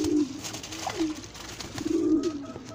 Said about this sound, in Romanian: Deci așa fac porumbeii baie.